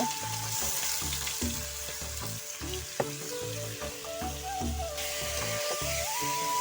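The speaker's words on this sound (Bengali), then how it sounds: "কড়াইতে তেল দিয়ে কিন্তু আমি উস্তাটা দিয়ে দিলাম এখন নেড়ে চেড়ে নিব" Bitter gourd sizzles in hot oil in a wok while being stirred, a steady close frying hiss under repeated rhythmic scraping strokes of the spatula.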